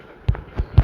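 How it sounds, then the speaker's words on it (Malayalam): Firecrackers going off in the Roblox game Dusty Trip, three short low pops spaced apart, moderately loud with a quiet background between them. "എത്ര പടക്കമാണ് ഇവിടെ."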